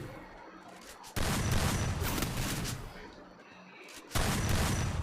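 Bursts of gunfire in the Free Fire video game, two loud sustained volleys with a quieter stretch between.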